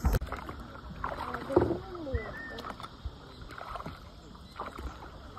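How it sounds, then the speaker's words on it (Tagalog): Kayak paddles dip and splash in the water at a beach in El Nido, Palawan, with soft irregular strokes, lapping water and faint voices in the background. "I-start mo lang mga paddle mo."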